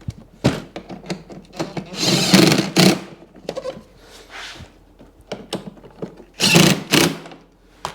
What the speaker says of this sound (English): Just going to bolt this hood on.